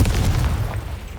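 A booming Confringo blasting spell explodes in Hogwarts Legacy, a loud low-heavy burst that hits at once and rumbles away over about a second.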